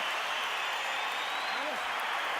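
Boxing arena crowd at the Oscar De La Hoya versus Floyd Mayweather Jr fight roaring steadily in a dense, continuous wash of cheering and applause, with a commentator talking over it.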